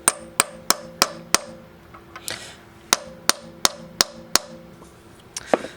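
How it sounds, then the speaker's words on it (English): A pilot bushing is hammered into a Project F Camaro during a clutch and T5 transmission rebuild. Sharp, ringing metallic blows land close up in two quick runs of about five strikes each, separated by a short pause. "that's how you install a pilot bushing"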